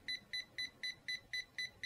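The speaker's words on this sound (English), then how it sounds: "if hair becomes tangled, will beep continuously" A hair styling tool beeps steadily when hair gets tangled in it, giving a string of short, evenly spaced high electronic tones at low volume.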